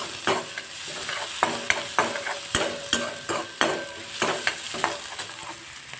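Chopped onions sizzle steadily in a pan while being stirred, with repeated scraping strokes and clinks of the spoon against the pan rising over the continuous frying hiss, close and fairly loud, no voices.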